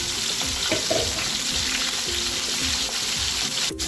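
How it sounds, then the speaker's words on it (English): Fish coated in leftover marinade frying in a pan over low heat, a steady soft sizzle and crackle running throughout with faint stirring, no talking. "Fry the fish in a slow fire with the remaining ingredients."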